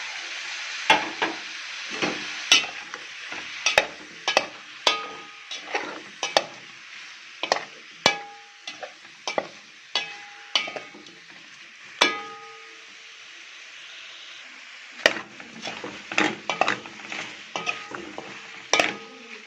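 Meat fries in a pot beside pieces of taro while spices are stirred in, a soft sizzle under frequent sharp scrapes and knocks of a utensil against the pan, in uneven bursts with a brief pause midway.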